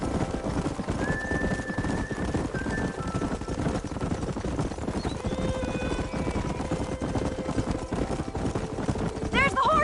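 Horses in the video game Red Dead Redemption gallop with a fast, steady clip-clop of hooves, and a couple of whinnies rise over the running along with a voice.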